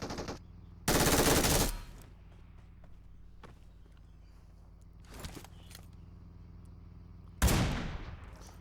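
Automatic gunfire in the Free Fire mobile game, two loud rapid bursts about a second each separated by quieter single shots and game ambience, close and sharp.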